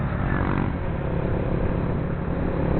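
Steady engine drone and road rush from a 2017 Honda RCS 125 motorcycle being ridden, continuous and fairly close with no talking.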